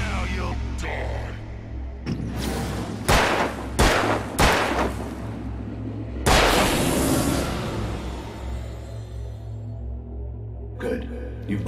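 Sharp single gunshots ring out in Alan Wake, spaced irregularly with a few quick in succession and a heavier blast later, loud and close over a low ambient drone.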